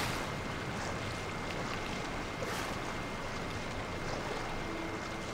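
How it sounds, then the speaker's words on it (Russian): A waterfall in the video game Genshin Impact pours in a steady, even roar of falling water, moderately quiet and constant, with no other sounds over it. "За водопадом, в водопаде."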